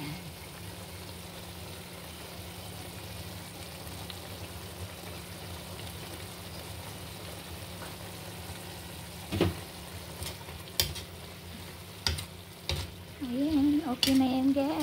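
Sautéed pechay (bok choy) sizzles steadily in a pan, a constant frying hiss with occasional sharp scrapes and clatters of a utensil stirring near the end.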